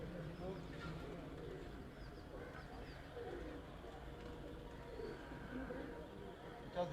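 Pigeons coo softly on a rooftop where racing pigeons have settled, low murmuring calls repeating faintly in the background while people talk nearby.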